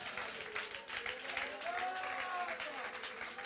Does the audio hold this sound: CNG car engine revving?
no